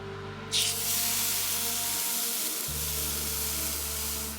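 A sudden loud hiss bursts out and settles into a steady, intense sizzle of steak on a grill over a campfire, with a low hum underneath.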